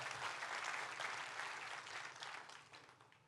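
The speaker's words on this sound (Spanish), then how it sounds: "Dele un fuerte aplauso a Dios por eso." Steady applause from a church congregation, a dense wash of clapping that holds for a few seconds and then gradually tapers off.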